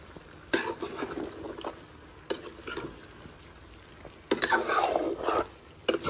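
A spoon stirs chicken curry with chayote in a pot, giving several separate scraping, sizzling bursts over a low simmer, with quiet gaps between the stirs and no voices.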